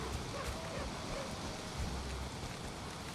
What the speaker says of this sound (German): Auch wieder ein Unwetter, ne?